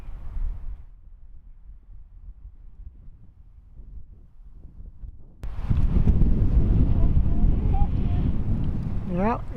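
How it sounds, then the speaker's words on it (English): Wind gusts across the microphone at Big Bend National Park's Window View hiking trail, a low rumbling buffet that grows strong and steady, with brief talk from people nearby. "Yeah, we got some wind blowing"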